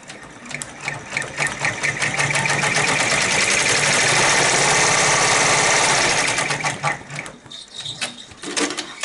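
Sewing machine stitching appliqué fabric pieces that have fusing on them, a steady fast whirring run that builds, holds loud for several seconds, then slows and stops near the end with a few light clicks.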